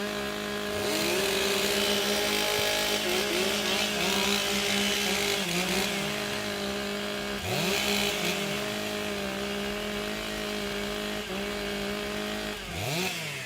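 Several chainsaws rev and idle together at a timbersports competition, a continuous loud buzzing roar with repeated throttle blips and pitch sweeps as the saws warm up before a heat.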